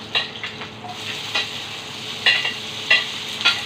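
Onions crackle and sizzle in a hot pan, with occasional scraping stirs and soft clinks, moderately close and steady.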